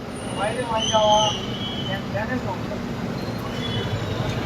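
A Bangaon local train slows as it pulls into Dum Dum Junction: a continuous low rumble and rattle of wheels, with brief rising and falling squeals and tonal whines near the start, fairly loud and close.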